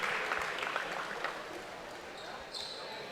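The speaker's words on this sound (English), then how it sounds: "And a nice round of applause to shake off a pretty good shot." Crowd applause at a men's college basketball game, a broad wash of clapping that fades over a few seconds, with a commentator talking over it.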